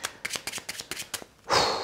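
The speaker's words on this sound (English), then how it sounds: "We will shuffle those into the deck." Playing cards are riffled in a quick series of crisp flicks, about eight sharp bursts, followed by a louder whooshing cascade as the deck is squared.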